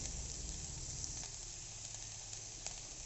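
Sliced onions sautéing in a pan for a quick gravy, a steady close sizzle with faint crackles and no voices.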